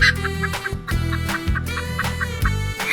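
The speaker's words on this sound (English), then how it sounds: "Chicken." Chicken in a 3D animal sliding game, repeated rhythmic clucks over a looping game soundtrack with a steady bass pulse, several short calls recurring at regular intervals, moderately loud and without speech.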